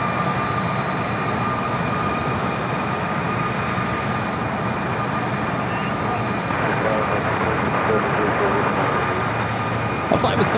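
A SkyWest CRJ 700ER regional jet arrives at Phoenix Sky Harbor, a sustained broadband engine roar with a steady tonal whine, moderately loud and continuous, with speech faint beneath.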